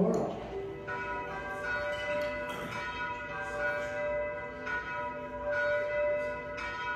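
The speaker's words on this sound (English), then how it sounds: "this church is the first church where Picard put the first bell in 1796 by our ancestor Antoine." Paccard church bells ring out in a dense, sustained peal from a church tower, overlapping strikes with long shimmering tones throughout, fairly loud and steady with no voices.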